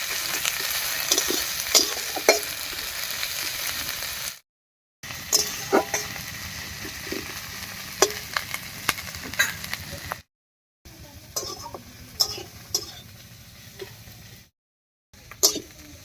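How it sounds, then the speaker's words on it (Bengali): Onion, green chili and garlic fry in a pan with a continuous close sizzle and crackle, broken by brief stirring scrapes and a few short silent gaps, with no speech. "পেঁয়াজ লঙ্কা রসুন সব ভাজা হয়ে গেছে"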